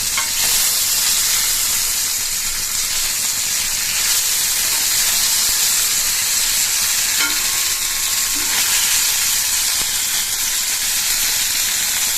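Sardines fry in hot oil with a loud, steady, hissing sizzle that holds evenly throughout, close up and with no voices.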